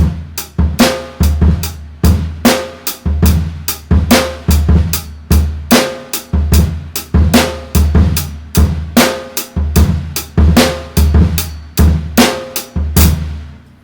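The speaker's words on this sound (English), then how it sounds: "We got a lot of 16th notes happening in the bass drum on this one." A drum kit plays a steady, busy groove with rapid bass drum strokes packed between snare and cymbal hits, close and loud, repeating for several bars.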